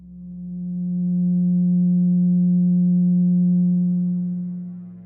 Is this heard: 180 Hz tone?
yes